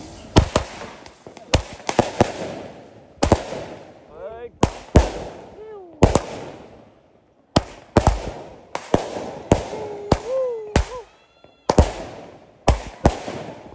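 A 16-shot firecracker cake bursts outdoors on a road during Diwali with a series of sharp, loud cracks at uneven intervals, and whistling tones rise between some of the bangs.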